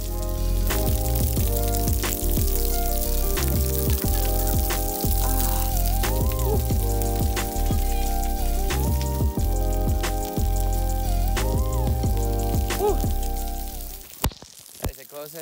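Water from a makeshift camping shower sprays and patters in a continuous hissing stream for over ten seconds, then cuts off abruptly, with faint background sounds mixed in.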